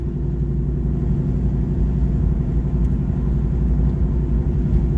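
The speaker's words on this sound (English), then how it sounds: "made one of the best noises ever. Just out of a V8 American muscle car." A stock V8 American muscle car cruises on wet roads at part throttle, giving a deep, steady, close engine rumble without pause and no voices over it.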